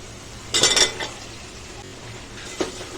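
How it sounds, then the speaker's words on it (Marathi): Potatoes are added to a pan of green masala paste fried in oil, giving a brief clattering rattle and clink of metal, then a quiet stretch and a single later tap over a soft background. "त्याच्यामध्ये आपण बटाटा टाकू"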